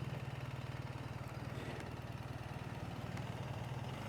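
A 2025 BMW 1300 GS Adventure Triple Black motorcycle engine runs with a steady, throbbing low rumble that pulses evenly throughout, close and moderately loud with no talk over it.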